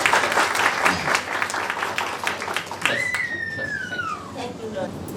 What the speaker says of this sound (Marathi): आपण टाळ्या वाजूया.